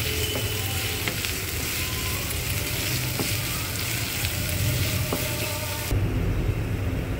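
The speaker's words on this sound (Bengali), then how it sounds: "পেঁয়াজগুলো একটু লাল লাল করে ভেজে নেব।" Chopped onions fry in oil that was first tempered with dried red chilli, for a prawn and vegetable curry. A steady close sizzle runs throughout with occasional stirring scrapes, and the sound drops slightly toward the end.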